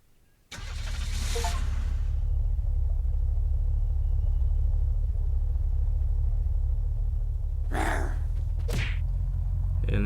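A car engine in the zombie survival video game Unturned starts with a burst and settles into a steady, loud low rumble that holds throughout, with a couple of brief whooshing bursts near the end.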